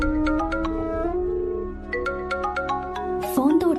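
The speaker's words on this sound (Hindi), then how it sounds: "फोन तो उठा ले।" Mobile phone ringtone ringing in a repeating melodic electronic pattern, fairly loud and close, with a dramatic music bed underneath in a Hindi-dubbed action film scene.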